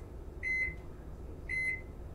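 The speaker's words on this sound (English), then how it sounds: "I'm hitting 3 minutes" A microwave oven keypad gives two short double beeps about a second apart while the cook time is set to 3 minutes, clear and close against a quiet background.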